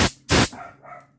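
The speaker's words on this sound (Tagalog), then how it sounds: "may mga aso rin. Hindi natin makakontrol ang aso." Dogs barking close by, two sharp loud barks in quick succession followed by fainter trailing sounds.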